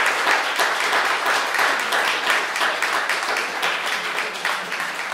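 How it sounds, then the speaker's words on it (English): Sustained audience applause at a history department 250th anniversary launch, dense even clapping from a crowd throughout, loud and continuous. "I want you to please applaud that now"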